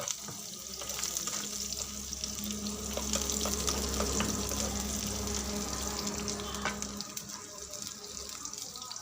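Garlic is frying in a spice paste in a pan while pasta is being cooked. It gives a steady, moderate sizzle that runs continuously, with light clinks and stirring scrapes on top.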